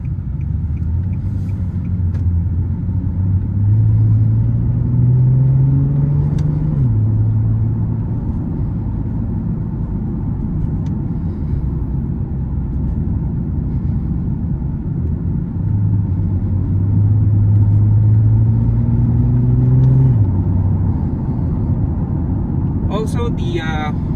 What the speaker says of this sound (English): So let's just park it back to its house, and yeah, that's the 370Z